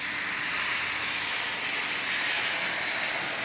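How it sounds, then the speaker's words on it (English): Steady broadband hiss of traffic passing on a rain-soaked road on a rainy Sunday, a continuous wash of tyre spray with no clear individual passes and no voices. "you could hear the sound of those vehicles"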